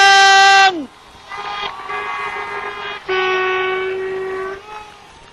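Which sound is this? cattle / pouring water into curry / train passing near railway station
train passing near railway station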